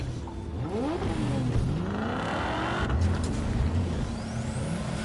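Car driving in Cyberpunk 2077, engine revving up and down in repeated sweeping pitch climbs, loud and close, with a steady road rumble and no talk.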